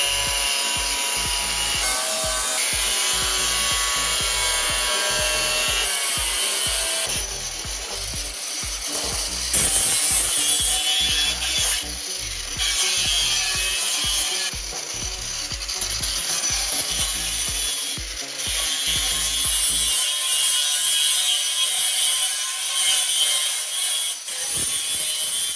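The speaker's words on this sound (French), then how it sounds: "Donc là je vais couper sur le premier trait parce qu'après cette partie va falloir la replier." Material for Mini Austin wing extensions is cut with a power tool, giving a sustained, close, rough cutting drone with a steady whine that pauses briefly and then continues, dropping lower near the end.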